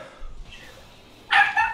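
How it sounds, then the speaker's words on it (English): A pet dog at home gives a short, sharp bark close by, followed by a second yip, over faint room noise during a Rocket League gaming session. "My dog is a little bit loud."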